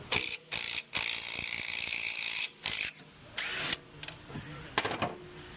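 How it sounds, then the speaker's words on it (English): Ratchet removing the nut from a loaded strut, close bursts of rapid clicking separated by short pauses, with a few metallic clinks toward the end. "Then you take the nut off."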